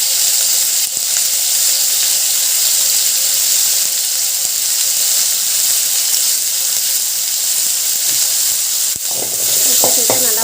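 Pasta vegetables sauté with salt in a hot pan, producing a loud, continuous, close sizzle that holds steady throughout, with occasional faint stirring scrapes near the end.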